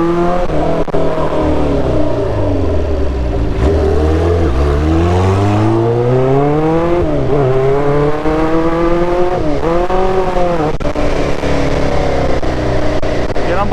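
Honda CB 500 Four cafe racer motorcycle pulling away, its inline-four engine rising through repeated revving climbs and gear changes, loud and close throughout with a slipping clutch.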